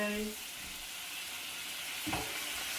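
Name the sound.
stirring Vietnamese chicken curry in a pan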